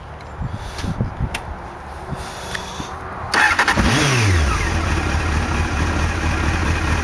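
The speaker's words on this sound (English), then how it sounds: "it does have a lovely engine noise" A Honda CBF600 motorcycle's inline-four engine is cranked and catches, then settles into a steady, loud idle with a rising and falling whine as it starts running.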